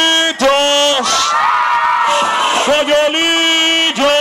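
A carnival crowd at the Coyolillo Carnival in Mexico lets out a loud collective shout on cue, with voices swelling and holding together over a few seconds amid festive noise.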